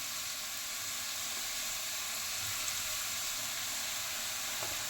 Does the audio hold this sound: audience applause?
no